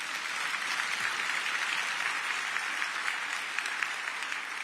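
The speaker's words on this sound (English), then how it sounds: "Give them a round of applause." Steady, dense applause from an audience at a county's State of the County address, continuous and even throughout with no letup, filling the room at a moderate distance.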